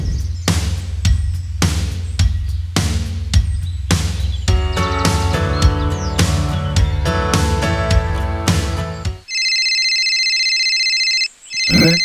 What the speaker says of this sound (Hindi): कौन फोन किया